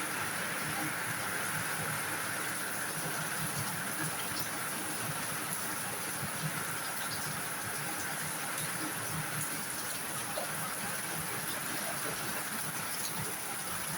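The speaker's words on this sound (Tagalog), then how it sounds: "Malakas ang ulan, no?" Heavy rain pours down in a steady, dense hiss outdoors during a rainy-day cooking session, a constant broadband wash with no breaks and no talk.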